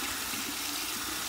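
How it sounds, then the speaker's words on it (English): Cold water running from a bathroom tap, a steady close hiss of flowing water, alone without talk. "some cold water there"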